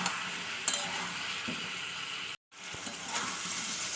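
Vegetables with salt and turmeric sauté in a pan, making a steady, close sizzle with a few light stirring clinks and one brief cut to silence midway.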